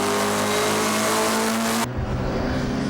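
Mini 7 race cars racing at Pukekohe, with loud, high-revving engines droning close by and an abrupt drop in tone partway through, as if from a shift or a change of view, and no speech.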